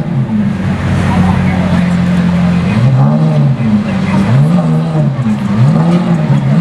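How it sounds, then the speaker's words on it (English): A Lamborghini Gintani SVJ with a V12 engine revs loudly nearby, its pitch rising and falling in repeated swells while people talk excitedly over it. "Listen to that, Gintani SVJ."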